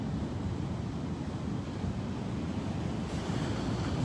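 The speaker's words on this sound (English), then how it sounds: "If you hear that in the background, that's a storm brewing." Wind and surf from a brewing storm make a continuous low roar, a steady, fairly loud rush of waves and gusts with no voices.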